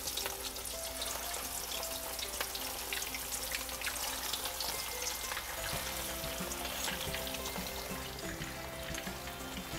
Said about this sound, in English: Our meatball has been cooking for about 2 to 3 minutes on one side.